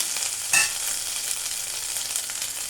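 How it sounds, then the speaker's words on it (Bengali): Ginger and whole cumin seeds being sautéed in hot oil in a pan for a Bengali fish curry, a steady close sizzle with a brief sharp spatter burst near the start, no voices. "এখন আমি মশলাগুলো কষে নেব আদা দিলাম এক ইঞ্চি মতো আদা দিলাম"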